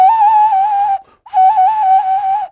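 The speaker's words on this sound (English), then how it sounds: "get another one of these hummingbird whistles." A bright, warbling tone from a hummingbird whistle from Costa Rica, held steadily, broken by one short pause, then resumed; loud, close, and tonal with quavering pitch.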